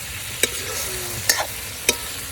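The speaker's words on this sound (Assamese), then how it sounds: "মাংস ভাজি আছে" Meat frying in a pan at an outdoor village Magh Bihu Uruka feast, a steady soft sizzle broken by three sharp scraping clatters as it is stirred, with no talk.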